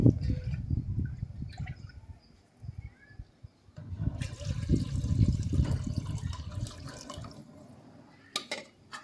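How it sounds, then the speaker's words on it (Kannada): Water pours and splashes into a pan of buttermilk curry in uneven bursts, with some clatter and a few sharp knocks near the end. "ಇವಾಗ ನನಗೆ ಎಷ್ಟು ಬೇಕಷ್ಟು ನೀರು ಹಾಕ್ಕೊಂಡಿದ್ದೀನಿ"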